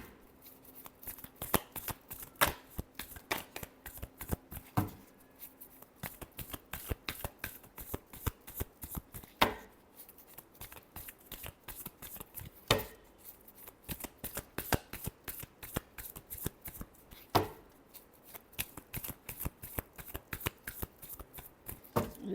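Tarot cards are shuffled close up in a quiet room, giving repeated soft riffling and snapping bursts in an uneven rhythm throughout.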